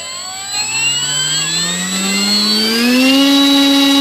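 An electric motor and propeller on a 1.2 m P-51D Blondie RC plane, held on the ground, spin up from idle to full throttle, a close, loud whine rising steadily in pitch and then holding high.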